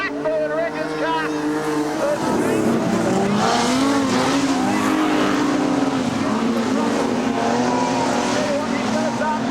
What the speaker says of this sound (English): Here comes the Blackbird Wreckers car.